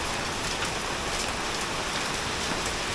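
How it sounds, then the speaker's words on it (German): Small hailstones falling in a dense, steady patter on surfaces nearby, a constant hiss-like rattle with no talking. "Hagelt es auch noch. Kleine Hagelkörner,"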